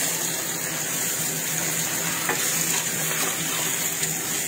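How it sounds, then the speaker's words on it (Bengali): An egg fries lightly in a pan beside cooking onions, giving a steady, even sizzling hiss with faint stirring scrapes throughout. "এই সাইডে আমি ডিমটা হালকা করে ফ্রাই করে নিচ্ছি"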